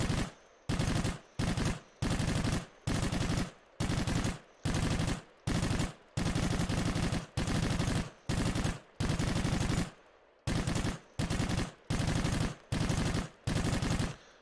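A deployed machine gun fires in the Northern Fronts video game, letting out loud, close bursts of rapid automatic fire that repeat in a steady rhythm with brief gaps between them, with no voices.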